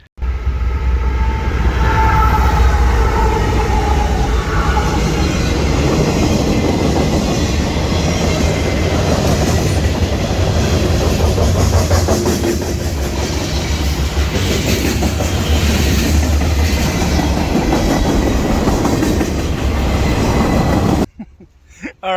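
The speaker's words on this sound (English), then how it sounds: "Oh, there's a train coming, guys." A train rumbles past on nearby railway tracks in a long, loud, steady roar of wheels and rail cars, with a horn sounding early on, continuing for about twenty seconds before cutting off abruptly.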